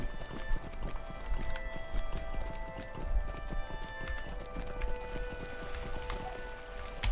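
Horse hooves clip-clop steadily in the video game Lord of the Rings Online, a continuous trotting patter under a low background hum, with no voices.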